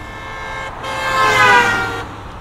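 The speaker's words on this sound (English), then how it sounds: "Is that a car?" An animated car passes in a desert scene, a loud engine swelling as it approaches and fading away, with a horn-like toot at its peak.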